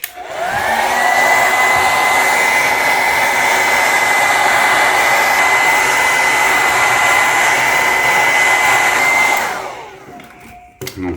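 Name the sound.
hair dryer heating iPhone 14 screen edges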